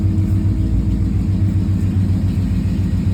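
Car engine idling at about 850 RPM on a newly installed ACES Killshot EFI, a steady low rumble with an even pulsing beat, close and constant.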